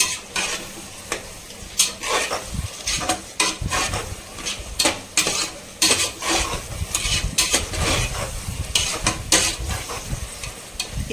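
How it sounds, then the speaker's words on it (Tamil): Mint and coriander leaves stirred and tossed in a hot pan over high flame for mutton biryani, with a steady sizzle broken by repeated close scraping and clinking strokes of the spoon. "ஸோ இப்போ ஹை ஃப்ளேம் வச்சுட்டு இந்த புதினாவும் கொத்தமல்லியும் நல்லா மிக்ஸ் பண்ணிக்கலாம்."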